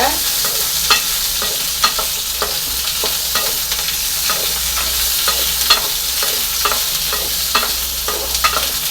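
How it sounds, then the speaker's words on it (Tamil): Okra frying in sesame oil in a pan for a curd gravy, with a steady close sizzle broken by regular scraping clicks of a spatula as it is stirred, no voices. "நல்லா வதக்கணும் வெண்டைக்காவை"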